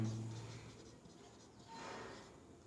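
Pen or pencil scratching across paper as a definition is written out by hand, a soft, continuous scratchy texture with a slightly louder stretch toward the end, close and quiet, with no talking.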